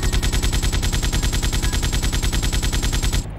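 Automatic gunfire sounds in a Grand Theft Auto mod video game as a loud, rapid and continuous burst of evenly spaced shots. It lasts about three seconds and then stops abruptly.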